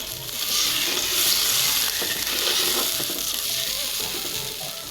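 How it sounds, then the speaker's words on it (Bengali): Loud, steady sizzling hiss as water is poured into a hot frying pan of fried tomatoes, bubbling and crackling continuously throughout with no voices. "তারপরে ভাজা হয়ে গেছে, এখন পানি দিয়ে দিতেছি।"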